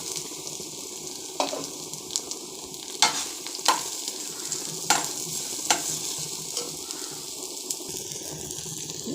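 Chopped mango pieces are tipped into a hot pan and stirred, with scattered scraping knocks over a steady sizzling hiss.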